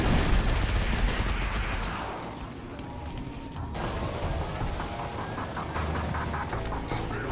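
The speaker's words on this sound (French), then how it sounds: "Oh, un canon brûleur." A burner cannon in Destiny 2 fires in rapid bursts, a dense crackling barrage mixed with broad blasts, loud at first, then easing somewhat and continuing steadily throughout.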